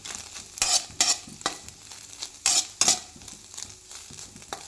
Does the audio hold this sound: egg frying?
yes